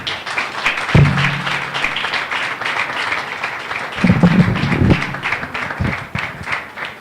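Steady applause from a crowd, a dense wash of clapping that holds for several seconds with brief low thuds mixed in.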